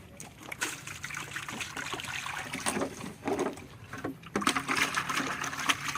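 Water splashes and trickles while a container is rinsed and scrubbed clean, with uneven bursts of pouring and sloshing up close.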